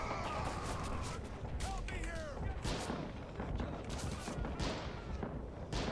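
Rapid, overlapping gunfire and explosions fill a Red Orchestra 2 Heroes of the West mod battle at the Battle of the Bulge, with M1 Garand rifles in play; dense, continuous shots near and far, a player's voice intermittently over the din.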